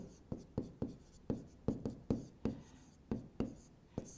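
Chalk or marker strokes tapping and scraping on a board during a geography lecture on latitude and longitude, about a dozen sharp, close hits in an uneven rhythm with no talking.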